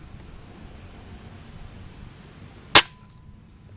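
After several seconds of quiet hiss, a KAC PDW Bison spring airsoft gun made by D-Cobra lets off one abrupt, close shot that dies away almost at once.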